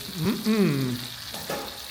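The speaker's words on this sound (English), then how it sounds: "Look at it sizzling." Steady, crackling sizzle of chicken frying on a hot plate, close by, with a person talking over it.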